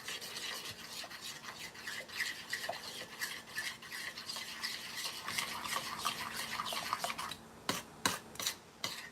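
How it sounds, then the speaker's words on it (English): A utensil scrapes and stirs melting candy melts in a bowl, giving quick repeated close scraping strokes with short pauses, with no talking. "I'm going to stir for a little bit longer just to see if it finishes melting these pieces"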